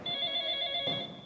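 A telephone bell rings in a staged church drama scene, a bright continuous trill that breaks briefly near the end, close and clear with no talk.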